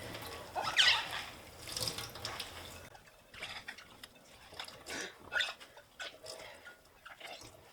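Water drains from soaked sphagnum moss being pressed down into a sink, giving a close, irregular splashing and trickling that swells and eases in small surges.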